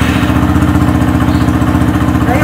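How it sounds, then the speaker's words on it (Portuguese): A small motorcycle engine idles steadily after being restarted with its exhaust refitted and side covers back on, giving a close, even low throb with a regular pulsing beat and no talk over it. "Aí, ó, motorzinho sereno, sem problema nenhum."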